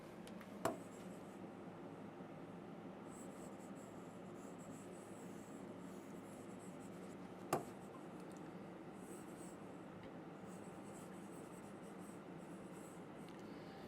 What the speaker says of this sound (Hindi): अमाउंट लिख देते हैं अब हम लोग यहां पर।